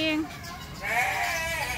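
A goat at a child-friendly hotel in Bandung gives a short bleat, then a longer wavering bleat, both moderately close. Faint background noise sits underneath.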